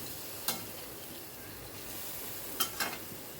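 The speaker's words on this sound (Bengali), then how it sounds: "আবারও সব কিছু ভালো করে মিশিয়ে নিলাম।" Jackfruit with Kitchen King masala stirred in a pan over a quiet, steady sizzle. A few sharp scrapes of a utensil against the pan come close by at irregular moments.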